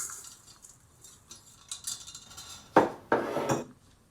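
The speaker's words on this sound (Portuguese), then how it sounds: "Vamos começar batendo aqui o açúcar mascavo." Brown sugar is beaten in a bowl for a Pernambuco wedding cake: light scraping and clinking, then two louder bursts of rapid beating against the bowl near the end, close by with no talking.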